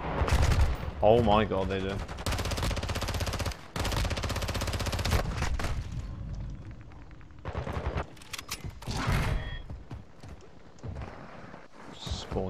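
A sentry gun in a video game fires long loud automatic bursts, broken by short gaps and fading toward the end, while a player talks briefly over it.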